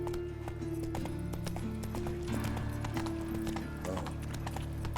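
A horse gallops in The Witcher 3 video game, with a continuous drumming of hoofbeats over a steady game soundtrack and ambience, close and loud, with a brief whinny.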